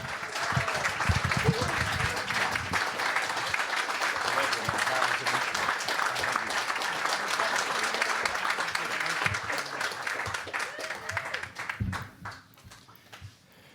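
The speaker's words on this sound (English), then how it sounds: "how about you put your hands together and stand up and give a warm round of applause" An audience gives a warm round of applause for a speaker's introduction at a live multimedia presentation on Bruce Springsteen, dense sustained clapping that carries for many seconds before fading out near the end.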